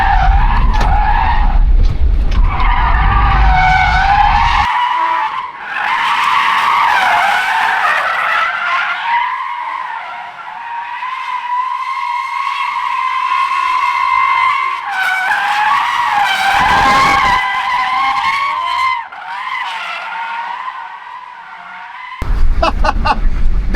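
An electric Tesla drift car slides through corners, its tires squealing in long, loud, wavering screeches that rise and fall across the run, with brief pauses and a rough rumble at the start and end.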